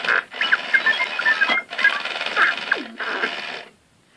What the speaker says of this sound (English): So that is R2 moving now.